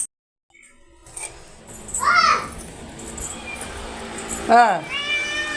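Two clear, close cat meows a couple of seconds apart, with a voice faintly in the background.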